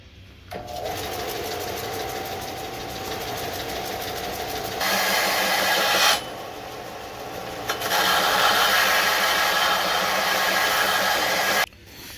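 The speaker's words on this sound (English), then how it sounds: "I got my belt sander out. I'm going to try to clean up these edges, put a new profile on them." A belt sander grinding the rough, rusty edges of an old Pulaski mattock: a loud, steady motor whine with a sanding rasp that rises as the tool head is pressed on, drops briefly mid-way, then resumes before cutting off.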